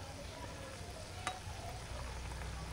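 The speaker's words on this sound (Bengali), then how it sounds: "হ্যাঁ দেখুন, এবার এই যে হালকা লাল লাল করে ভাজতে হবে" Chhana balls fry in a pan for Bengali moti pulao, giving a faint, even hiss of oil with one small tap partway through and no speech.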